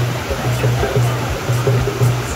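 Waterfall at the Nine Arches Bridge in Sri Lanka, water dropping onto rocks from high up, heard as a steady broad rush that stays loud and continuous throughout.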